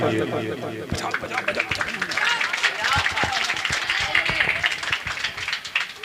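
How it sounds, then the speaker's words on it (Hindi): Applause from a mushaira audience welcoming a poet at an evening of ghazal poetry: dense, steady clapping from a large crowd, mixed with voices and other sound throughout. "जोरदार तालियों से इस्तकबाल कीजिए।"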